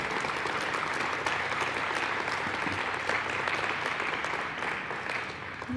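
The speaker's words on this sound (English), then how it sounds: "Let's give him a round of applause, Lou D'Ambrosio." Applause from the audience at a relief supplies donation event honoring Lou D'Ambrosio, a steady, fairly distant wash of many hands clapping that eases slightly near the end.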